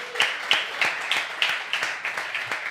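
Audience applause from a French comedy show crowd, a steady patter of many hands clapping with regular peaks, moderately loud and without speech over it.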